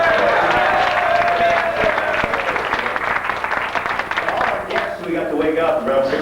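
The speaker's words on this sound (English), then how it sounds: "Round of applause for them, please." Inside a radio studio, a crowd gives a loud, sustained round of clapping with scattered cheers, and voices talk beneath it toward the end.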